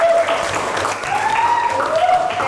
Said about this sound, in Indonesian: Iya, beri tepuk tangan.